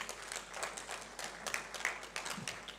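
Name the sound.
audience applause for the broadcast team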